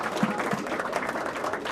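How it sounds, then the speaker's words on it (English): A room of attendees at a Pennzoil Ultra Pure Plus motor oil event gives a round of applause. The clapping is moderately loud and steady, with a couple of sharper nearby claps near the start. "give yourself a round of applause"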